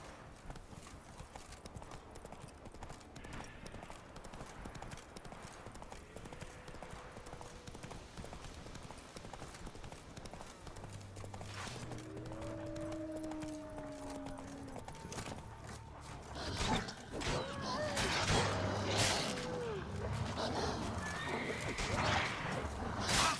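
Roach, the horse in The Witcher 3, gallops with steady clip-clopping hooves and gives clear neighs and whinnies, building louder toward the end over game music and ambience.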